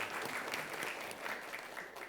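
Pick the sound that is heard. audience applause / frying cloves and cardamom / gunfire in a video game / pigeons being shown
audience applause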